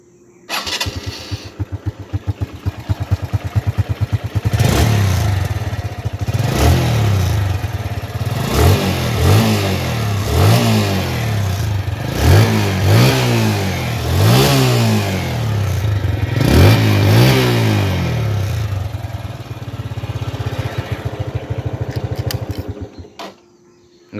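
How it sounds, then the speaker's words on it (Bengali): A TVS Metro Plus 2021 motorcycle with about 12,839 km on it starts up and idles loudly up close, then revs repeatedly in rising and falling bursts before settling and cutting off. "এখন আপনাদেরকে আমি ইঞ্জিনের সাউন্ড শোনাবো।"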